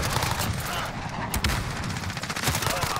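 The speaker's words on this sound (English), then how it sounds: "I don't know where I'm getting shot from" Dense, rapid gunfire in Call of Duty: Modern Warfare with an MP5 variant, a loud continuous barrage of shots and explosions with a voice briefly talking over it.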